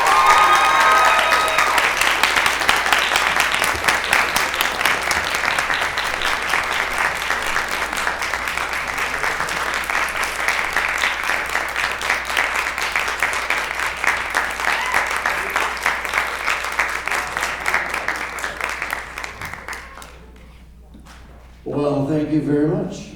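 Sustained audience applause welcoming a trio to the stage at a live music session, a dense steady clatter of many hands lasting about twenty seconds before fading, followed by someone speaking.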